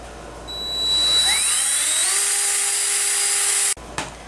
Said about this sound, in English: off with the smallest drill bit that I have and then work my way up to the 11/64